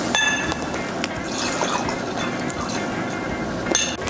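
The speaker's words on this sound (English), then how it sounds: "Hey, Terry, can I pour you a drink?" Liquid pours into a glass with a bubbling fill and a few light clinks of glass, close up and clear, with hardly any talk.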